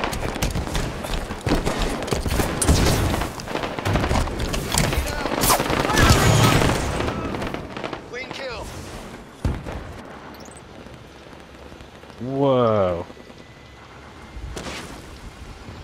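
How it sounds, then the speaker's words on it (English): Rapid weapon fire during a Halo 5: Guardians Warzone match on Escape from A.R.C., dense bursts of shots for several seconds that fade into quieter game sounds with short electronic tones. "Fucking plasma rifle, whatever it's called, melts AI."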